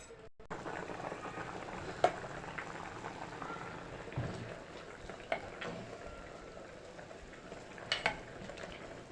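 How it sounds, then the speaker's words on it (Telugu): Black-eyed peas simmering in water in a pot give a low, steady bubbling hiss, broken by a few soft clinks and taps near the start and again toward the end, with no talking. "ఇవి గింజలు అనేవి మెత్తగా ఉడికేంత వరకు ఉడకబెట్టుకోవాలి"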